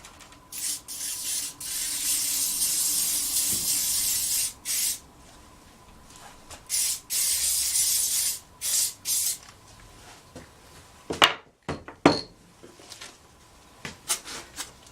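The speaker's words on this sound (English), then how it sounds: "This is a Gorilla Spray." Aerosol can of Gorilla Spray glue sprayed in repeated hissing bursts, some long and some short, close to the microphone, with a few handling knocks near the end.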